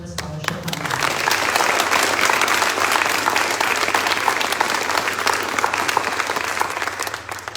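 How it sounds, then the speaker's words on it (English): An audience at a military family scholarship award ceremony applauds the recipients with steady, full applause from many hands that starts quickly, holds evenly for several seconds and tapers slightly at the end. "Please give them another round of applause."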